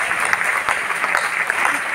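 A crowd claps at a Hindi poetry gathering, a short burst of dense applause in a hall, loud and steady with a faint murmur of voices mixed in.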